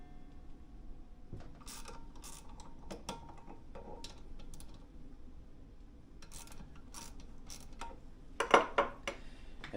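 Wrench turning to loosen the ignition coil on a Briggs LO206 kart engine, heard as scattered ratcheting clicks and small metallic taps, fairly quiet and close, with a louder cluster of clicks near the end and no talking.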